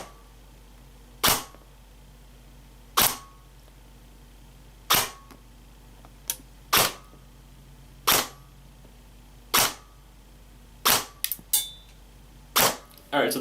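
An airsoft gun fires 0.28 gram BBs through a chronograph during a gearbox test. About a dozen sharp, close snapping shots come at uneven intervals, some in quick pairs, with no talk over them.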